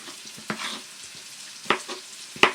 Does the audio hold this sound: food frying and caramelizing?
yes